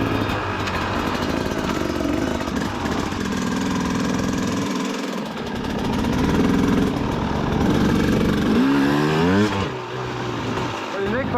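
A 2004 KTM 250 EXC dirt bike engine buzzes steadily and close while riding along a trail. A sharp rev rises and falls near the end, with a voice talking over the engine noise.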